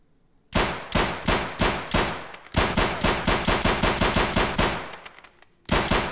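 An M9 pistol fires in the video game Escape from Tarkov. Loud shots come in quick bursts of about a dozen rounds, with short pauses between bursts, and there is no talk.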